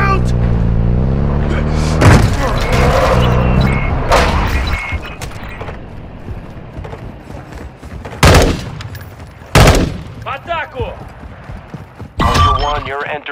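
Gunfire in the Call of Duty Warzone 2.0 DMZ shooter game: a few sharp, loud shots and bursts at irregular intervals, mixed with game voice announcements and engine rumble.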